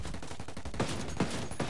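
Light machine gun firing in the Ghost Recon video game: three sharp, evenly spaced shots ring out over a steady, busy game backdrop.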